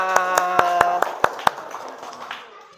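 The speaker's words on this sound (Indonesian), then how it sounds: "Tepuk tangan semuanya." A class claps hands in a quick even rhythm, about seven sharp claps close together, then softer scattered claps trailing off, under a voice chanting along.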